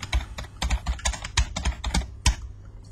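Rapid typing on a computer keyboard, a run of close, crisp key clicks at an uneven rhythm with no voices over it.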